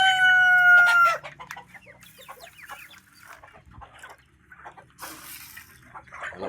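A rooster crows loudly at the start, then hens cluck and chatter in a steady scatter of short calls nearby.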